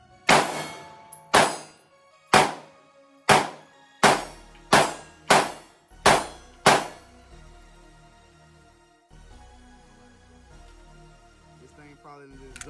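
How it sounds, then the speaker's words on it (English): Eight sharp 9mm shots from a Springfield Echelon 4.0c Comp pistol strike steel targets in a quick, even string, each bang followed by a ringing metallic decay, then a quieter lingering tail. "Let's hit some more steel."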